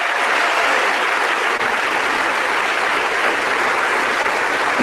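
Members of parliament applauding the head of state in the chamber, a broad, sustained wash of many hands clapping that holds steady from start to finish, with no speech.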